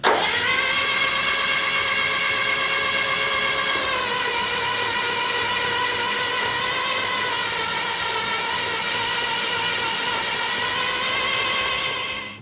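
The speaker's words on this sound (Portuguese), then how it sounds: "Eu vou dar a partida no motor, vai girar o sistema de embreagem" A car engine starts and settles into a steady, loud mechanical whir as the clutch and primary shaft spin in neutral with no gear engaged, holding an even pitch before cutting off at the end.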